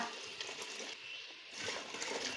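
Water pours steadily into a cooking pot of rice, six cups added for three cups of rice while making kuska; a continuous close gushing splash runs throughout, with no talk over it.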